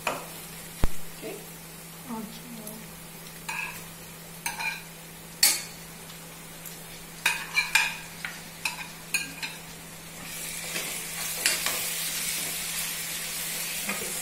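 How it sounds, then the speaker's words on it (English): Onions and tomatoes stirred in a cooking pan, with repeated scraping and clinking strokes of a spoon over a soft sizzle, irregular knocks close by, then the sizzle builds into a steady hiss toward the end. "Okay, stir it well."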